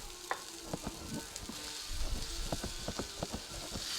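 Shrimp and crab vindaloo with malt vinegar is stirred in a pan, a soft sizzle under scattered scraping and clicking strokes of the spoon, close and fairly quiet, with no talk.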